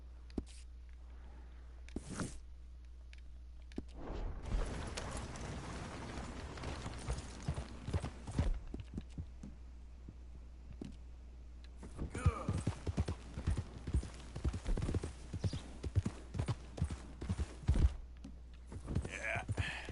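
Hooves clip-clop in irregular bursts close by, with rustling and shuffling between, and a person speaks briefly now and then.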